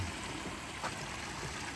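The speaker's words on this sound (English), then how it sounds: "A little trickle waterfall. Nice soothing sound that way." Small garden waterfall trickling at a home in Naples, Florida: a soft, steady wash of running water heard up close, with no voices.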